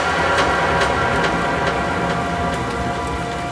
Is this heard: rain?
yes